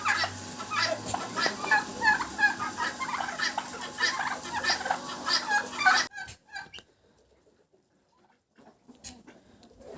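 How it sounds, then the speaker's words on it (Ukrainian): Several turkeys, including a young hen, gobble and cluck in rapid, overlapping bursts for several seconds, then it drops to near quiet with a few faint clucks. "Молоденька індичка загуляла, присідає і хоче під індика."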